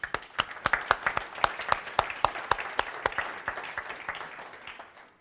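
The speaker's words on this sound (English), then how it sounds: "let's give them an applause." Scattered audience applause at an energy industry congress, sparse individual claps that start crisp and rhythmic, then blur together and fade out.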